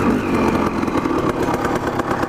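A two-stroke dirt bike engine runs steadily at low RPM, a close, loud, buzzing idle with a fluttering, uneven beat and no talking.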